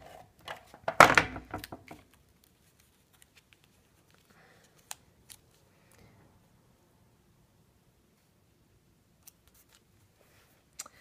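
Scissors trim a card sentiment with one loud, close snipping cut near the start, followed by long quiet stretches with only a few faint paper clicks and taps.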